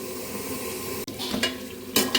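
Meat sizzles steadily in a pan with fried onion and cumin powder as it is sautéed without added water. A short scraping stir interrupts the frying partway through.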